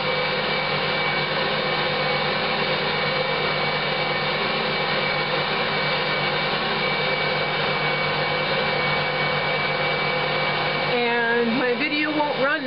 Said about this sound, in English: I'm going to let it knead for 10 minutes.